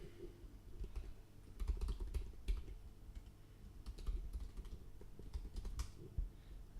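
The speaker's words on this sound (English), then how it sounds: "just go ahead and type in your email address" Quiet, close clatter of keys as an email address is typed on a computer keyboard, irregular tapping in short runs with brief pauses, no voices.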